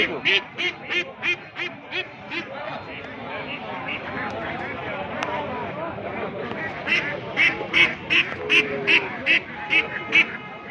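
Ducklings give rapid runs of high-pitched quacks in two bursts at a market, with a busy crowd of people talking underneath.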